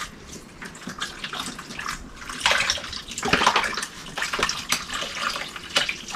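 Vegetable broth pours from its container into a cooking pot as a steady, close liquid gush that swells and splashes in waves for several seconds, with no talking.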